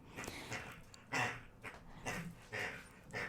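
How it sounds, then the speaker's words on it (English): Puppies panting, whimpering and snuffling in the background, a string of soft short bursts of breathy whines and snorts, close but quiet, with no talking. "you can hear puppy sounds in the background"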